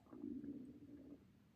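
A low, gurgling stomach rumble rolls on for about a second, close and fairly quiet, then fades out.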